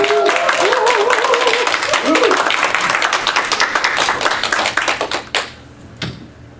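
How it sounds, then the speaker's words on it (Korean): Loud, dense clapping from a church congregation welcoming an elder to the front, with a voice talking over the early part, then tapering into a few scattered claps before stopping. "장로님 나오실 때 우려 같은 박수를 쏘고 환영하도록 하겠습니다."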